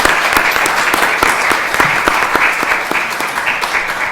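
Audience at a conference applauds, a dense burst of clapping with sharp individual claps standing out, steady and close throughout.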